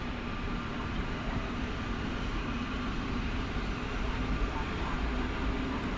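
A train at Warszawa Wschodnia station makes a steady, broad rumbling roar that holds an even level throughout, heard from fairly close with no distinct individual events.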